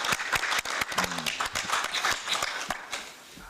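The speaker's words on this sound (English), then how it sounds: "Please, may we applaud them for the conversation." Brief applause from delegates at a formal session, a scattered burst of hand claps from a small group that tapers off within a few seconds.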